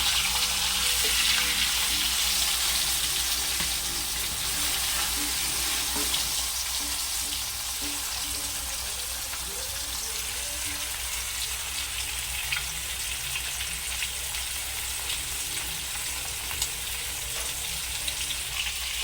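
Fish fries in oil in a pan for a banana-leaf fish fry, giving a loud, constant, dense sizzle with a bubbling, watery hiss. It runs steadily throughout, with faint clinks now and then.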